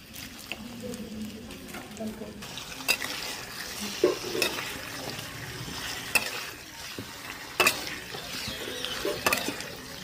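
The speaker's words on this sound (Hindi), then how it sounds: "देखिए मेरी मछली फ्राई होने लगी है" Pieces of fish coated in turmeric and salt fry in a spoonful of oil in a pan, with a steady soft sizzle broken by occasional clinks and scrapes from stirring.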